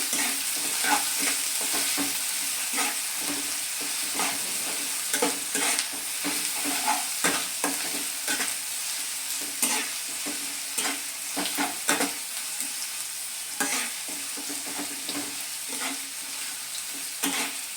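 Onions sizzle and fry to brown in a pan over medium-low heat while a utensil stirs them in repeated scraping strokes, close up and with no talking.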